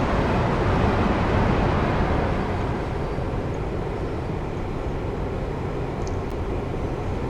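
A Pendolino train rushes past in the opposite direction in a train simulator, a loud, continuous broadband roar of wheels and air that stays dense and steady, then eases slightly near the end.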